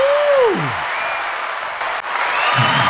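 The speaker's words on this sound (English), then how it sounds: "Keep the applause going." A live podcast audience applauds and cheers steadily, with a voice and a sliding whoop over the sustained clapping.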